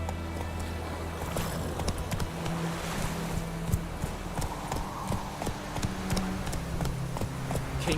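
Roach the horse trots in The Witcher 3, hooves clip-clopping in a steady, fairly close rhythm over a soft outdoor ambience with faint water-like wash beneath.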